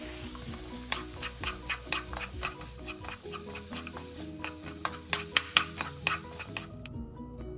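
Salt, pepper, flour and tomato paste being stirred together in a pot, with a steady series of scraping and clinking strokes against the pot, close and loud, alone.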